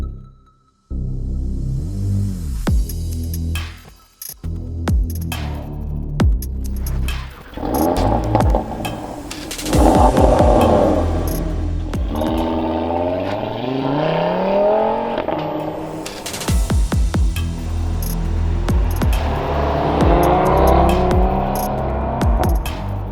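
A 2020 Audi TT RS's 2.5-liter turbocharged five-cylinder engine revs and accelerates with a throbbing, rising growl, pitch sweeping up through several gear changes, loud and close.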